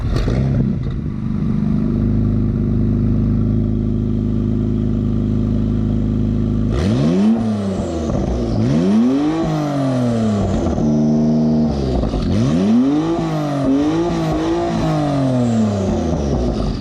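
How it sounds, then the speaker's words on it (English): A sports car with a very loud exhaust idles with a deep, steady rumble, then is revved hard several times in rising and falling sweeps. Each rev ends in crackling exhaust pops, close and loud. "That was a pretty high rev. Yeah, it was popping."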